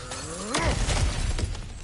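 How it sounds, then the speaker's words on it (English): Kratos smashing through a breakable object in God of War Ragnarok: a sharp crunching shatter with splintering debris and a few clattering follow-up impacts, fairly close, over soft game ambience without speech. "back to smashing through things for fun and profit"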